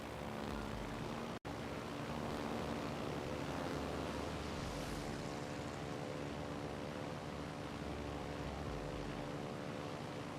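A fighter plane drones through the air in World of Warships Legends, a steady humming engine tone with layered harmonics, held evenly for about ten seconds apart from one momentary dropout.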